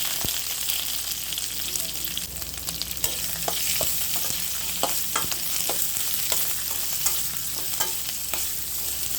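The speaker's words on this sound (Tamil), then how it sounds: "நறுக்கி வச்சிருந்த வெங்காயத்தை சேர்த்துக்கலாம்." Chopped onions sautéing in a pan with dal and green chillies, a continuous bright sizzle with occasional stirring clicks and scrapes, close and steady, with no voices.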